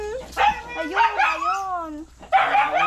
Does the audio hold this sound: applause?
no